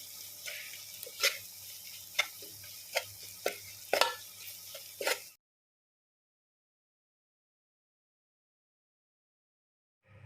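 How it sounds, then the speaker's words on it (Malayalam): A spoon stirs mutton curry and masala in a pan, making a run of sharp scraping strokes over a soft sizzle for about five seconds, then silence. "അപ്പോൾ അതിൻ്റെ പച്ചമണം പോകുന്നവരെ നന്നായിട്ടൊന്ന് ഇളക്കി കൊടുക്കും."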